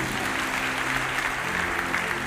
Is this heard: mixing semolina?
no